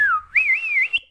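A person whistles a short, clear melodic phrase, gliding down, then up with a wavering pitch, loud and close, ending on a sustained higher note, with no talking.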